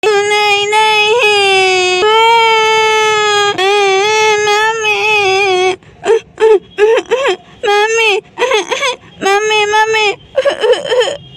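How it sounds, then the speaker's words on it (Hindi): Two babies cry and wail together, high-pitched, one long sustained sob followed by choppy, broken bursts of crying, loud and close. "और यहाँ पर दोनों बच्चे बहुत ज्यादा रोने लगते हैं"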